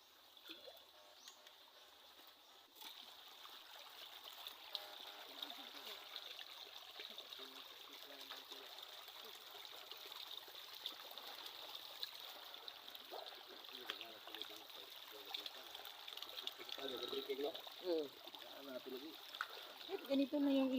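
A steady rush of river water flows throughout, with faint voices and a few splashes rising near the end.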